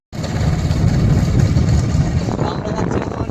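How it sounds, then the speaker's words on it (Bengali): A motorbike ride on the way to Noshipur bridge gives a steady, close engine drone with rushing wind noise that starts abruptly and holds at an even level throughout. "তো আমরা এখন বাইক করে যাচ্ছি"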